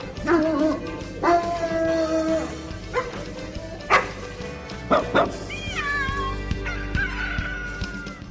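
A dog-barking sound effect for a community radio segment, with several bursts of barks and other yelping, animal-like cries spread over a few seconds.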